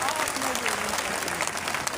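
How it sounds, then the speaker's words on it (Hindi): An audience at a large community gathering and workers' conference in Sitapur claps loudly and steadily, a dense wash of applause from many hands, with a voice faintly audible underneath. "जोरदार ताली बजा करके आप स्वागत कर दीजिए"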